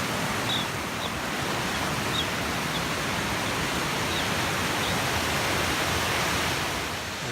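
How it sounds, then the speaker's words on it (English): Waterfall at the top of the falls on a volcano hike, a steady broadband rush of water that stays loud and constant throughout, with no voices. "this is the top of the falls here."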